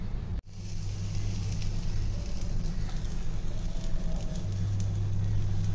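Green tomatoes roast over an open gas flame, giving a steady soft roar and hiss with faint crackles close by, preceded by one brief click near the start.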